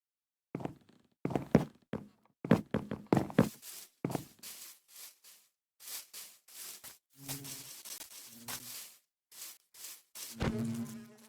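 Bees buzzing in the Minecraft video game, in short separate bursts of buzzing with brief silent gaps between them, close and fairly clear, with no talking.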